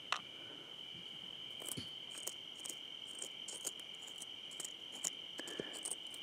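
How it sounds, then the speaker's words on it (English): Steady, continuous cricket chirping at night at an old uranium mine fills the background, a high trilling drone with a few soft clicks and taps scattered through it, no voices. "Just sitting here listening to the crickets"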